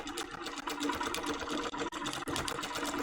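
An HQ Moxie long-arm quilting machine stitches with a continuous fast mechanical hum and rapid needle chatter, close and steady, broken by a few brief dips, with no voices.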